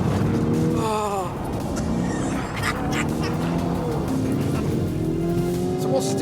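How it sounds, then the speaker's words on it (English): A twin-turbo V8 engine pulls hard under acceleration, its rising drone and whistling turbo tones loud and close throughout. "It doesn't sound like a V8. I think that's the turbos, isn't it?"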